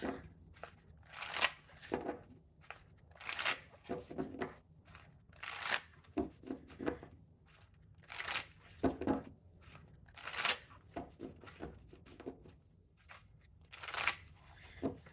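Cards being shuffled in repeated quick riffles, each a crisp burst of papery flutter, close and fairly quiet, with brief pauses between.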